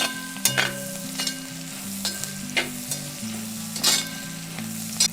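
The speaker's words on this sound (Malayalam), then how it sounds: "നമ്മുടെ ചെറിയുള്ളി അങ്ങനെ മൂത്ത് വരുന്നുണ്ട്" Shallots frying for a Kerala-style nadan beef fry: a steady sizzle runs throughout, broken by several louder stirring scrapes and clatters at irregular intervals, with no talking.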